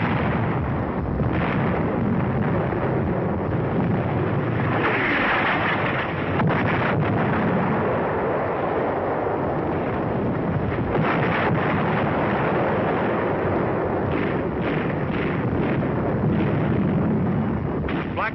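Artillery shell bursts on an enemy 88mm gun position at the front in North Africa, heard as a continuous, loud, wind-buffeted rumble of blast noise over about eighteen seconds, with no distinct separate impacts.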